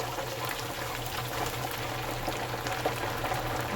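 Potato slices frying in hot oil for homemade chips give off a steady, dense bubbling sizzle, fairly close and continuous, with a low hum underneath and no voices.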